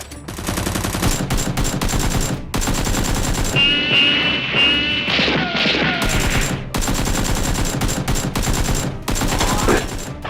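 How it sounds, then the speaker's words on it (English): Gunfire in a staged shootout: dense, rapid automatic shots fire almost continuously and loudly, with a brief break near the middle where other noise takes over. "Jack grabs a gun and shoots the boss"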